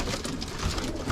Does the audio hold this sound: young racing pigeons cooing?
yes